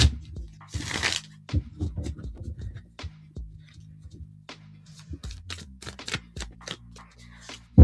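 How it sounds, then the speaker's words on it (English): A deck of tarot cards being shuffled during a live reading: a short riffle burst, then a string of soft card taps and slides. Quiet and close, with no talking. "Let's get this baby all shuffled."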